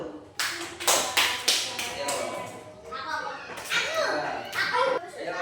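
Children in a primary classroom clap for a classmate, a burst of quick, irregular hand claps close by, with kids' voices mixed in.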